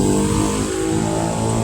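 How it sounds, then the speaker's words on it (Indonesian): A motorbike with a loud aftermarket exhaust revs hard, producing a continuous raspy, rumbling roar that stays close and loud, with no talk. "Oh astagfirullah, knalpotnya."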